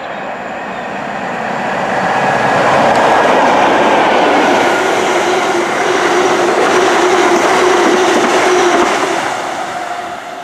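A train passes through Barrow-upon-Soar station on the Midland Main Line at close range, wheels clattering with a broad roar that swells and holds for several seconds before easing slightly.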